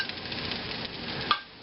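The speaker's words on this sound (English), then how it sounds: "we're putting the ham and the shrimp in here now, in with the rice and the egg mixture" Ham and shrimp sizzle in a pan with rice and egg mixture for Asian fried rice, a steady close frying hiss broken by scraping and a sharp metallic clink of a utensil against the pan near the end.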